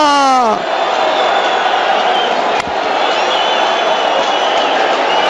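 A packed stadium crowd of Red Star football fans at Bordeaux roars in loud, sustained cheering after a late 90th-minute equaliser, a dense wall of voices that carries on steadily throughout, with a brief thump partway through.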